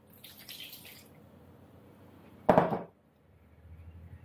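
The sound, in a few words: pouring a cup of water for strawberry cake batter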